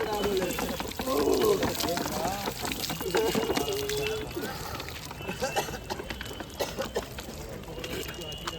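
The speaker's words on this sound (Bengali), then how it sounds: "আগে ঠান্ডা জল দিয়ে তোমার গাটা পরিষ্কার করে দিলাম" Water poured from a container over a man being bathed, splashing and trickling steadily in close bursts, with a person talking over it.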